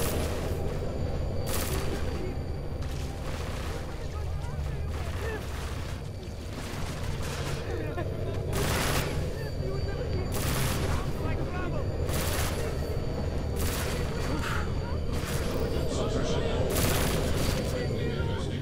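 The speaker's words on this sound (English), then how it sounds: "It's shooting all the homeless people" An automated gun turret in Deus Ex: Mankind Divided fires repeated bursts on the city street, loud sharp shots coming in irregular volleys over a constant rumble of game ambience.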